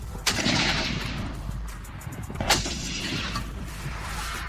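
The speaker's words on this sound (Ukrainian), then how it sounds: "Принцип роботи цієї гармати штовхай стріляй. Постріл!" Two heavy firearm-like blasts from an improvised cannon, about two seconds apart, each with a booming rumble trailing off over steady outdoor noise.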